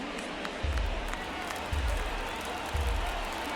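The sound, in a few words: crowd chanting "let's go Red Sox", from video game MLB The Show 2024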